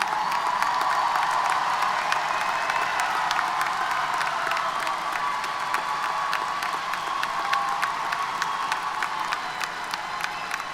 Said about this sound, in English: graduates, give them a round of applause for helping you get here.